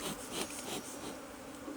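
Honeybees being moved from a hole in a stone wall into a hive make a close, dense buzzing hum that holds steady through a brief moment, with no one speaking.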